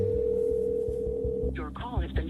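A steady, unbroken telephone tone on a phone call sounds for about a second and a half, then a recorded voice message starts over it.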